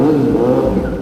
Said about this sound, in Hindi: यहाँ पर एक बार रेव करना तो बनता है।